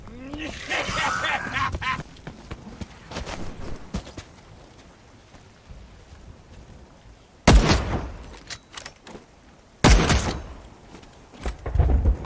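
Bursts of gunfire in The Cycle Frontier, a jungle PvP firefight: two loud, sharp volleys stand out near the end over a steady background bed, with quieter shots and game noise earlier.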